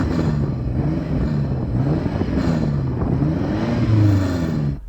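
A BMW M5 Competition engine revs repeatedly against a soft limiter around 4,500 rpm, a loud, close rumble with rising and falling pitch sweeps in quick succession and no talk over it.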